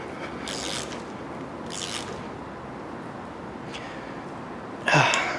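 An 11/16 socket on a ratchet tightens an oil fitting on a Ford 302 small block engine, giving a few short, raspy ratcheting bursts spaced apart over a low background hiss, nearby and unaccompanied by talk.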